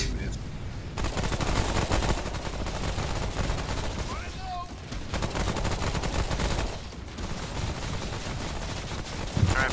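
Rapid, loud gunfire rattles almost nonstop as a player fires incendiary rounds at a root dragon boss in the video game Remnant: From the Ashes, with brief lulls near the start and middle and game effects layered underneath.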